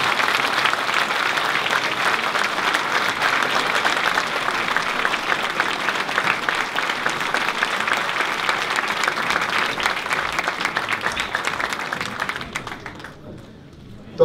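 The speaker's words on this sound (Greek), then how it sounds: "Δώστε τους το πιο ζεστό σας χειροκρότημα," Sustained warm applause from an audience at a political candidates' presentation in Lamia, Greece, steady dense clapping for many seconds that fades out near the end.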